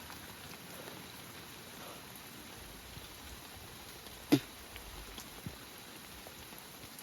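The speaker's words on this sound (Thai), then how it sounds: "อันนี้เที่ยวสองเนี่ยฝนก็กระหน่ำลงมา" Rain coming down in a forest during a trip to gather bamboo shoots, a soft steady patter heard faintly from a distance, with one brief louder knock near the middle.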